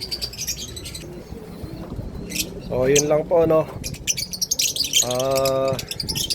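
Small birds chirp and tweet in quick, high bursts nearby, while someone talks over them.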